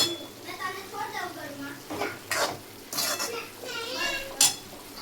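Cluster bean curry cooking in a pan on a home stove, with soft scraping, stirring and clinks of a spoon against metal, several bright clatters standing out, while people talk nearby throughout.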